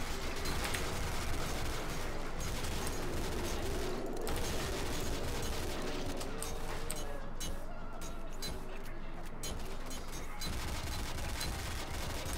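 Gunfire rattles nonstop while players fight off zombies in Gmod Zombie Survival, with dense overlapping shots and bursts over a noisy background of game sounds and occasional voices.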